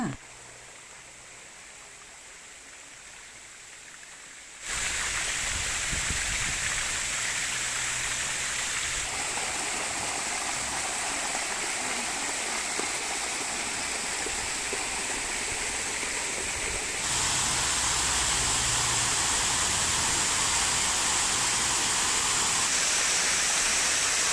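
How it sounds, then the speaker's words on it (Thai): Water pours at Sai Yok Noi waterfall in Kanchanaburi as a steady, dense rush that jumps suddenly in loudness after a quieter opening, then holds near and loud with small shifts in tone. "มาเที่ยวที่น้ำตกไซโยกน้อยต่อจ้า"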